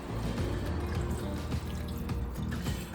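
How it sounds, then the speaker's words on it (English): About four cups of water pour from a container into a pot over chicken and vegetables, making a continuous close splashing and gurgling stream that fills the pot with no talk. "And then I'm gonna add about 4 cups of water"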